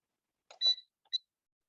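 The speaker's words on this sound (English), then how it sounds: "Oh, now it's beeping." An air fryer gives a few short, quiet electronic beeps close by in an otherwise silent kitchen, one longer tone followed by a brief second chirp.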